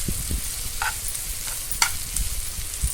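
Fresh turmeric and mango ginger fry in a pan for a pickle, giving a continuous sizzle with soft scraping and clinking from the stirring spoon. Nobody speaks.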